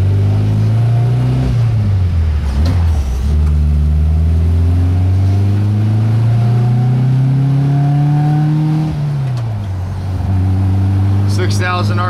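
A 1971 bus engine revs hard at high RPM, its loud droning pitch climbing steadily, dropping briefly, then rising again, close and continuous with a brief voice under it.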